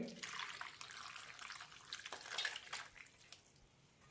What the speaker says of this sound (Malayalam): ബീട്രൂട്ടിൻ്റെ വെള്ളം ഒഴിക്കാം